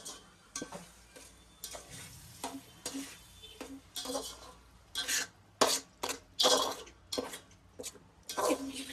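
Biryani masala paste frying and being stirred in a pan, giving repeated scraping, rasping strokes with sizzling bursts, moderately close and fairly quiet, with no talking.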